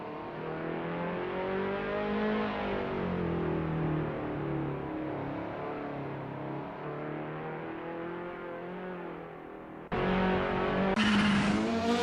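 A touring car laps Mid-Ohio in Assetto Corsa. Its engine drones steadily, rising and falling through the gears, then cuts to a sharper, louder rev near the end, with no talk over it.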